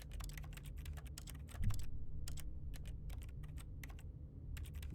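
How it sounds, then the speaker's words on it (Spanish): Keyboard-like typing clicks from left-clicking in The Stanley Parable come in quick irregular bursts, crisp and close, over a low steady background hum. "Cuando le doy al clic izquierdo se escucha como teclado. En plan, como si estuviera escribiendo."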